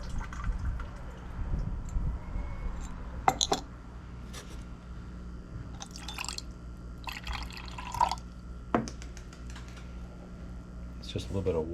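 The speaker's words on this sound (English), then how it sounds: "Just a little bit of water to wash it off." A small splash of water rinses material during gold recovery from gold-filled glasses, heard as faint, brief trickling and dripping bursts over a quiet low hum.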